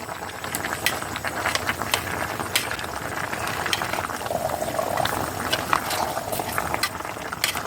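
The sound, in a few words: beef curry boiling and stirred in pot on clay stove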